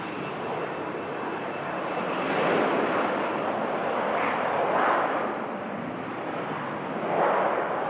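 A Hainan Airlines A321neo-type airliner rolls for takeoff, a broad distant jet roar that swells and recedes in slow waves, steady and moderately loud with faint wind, no speech.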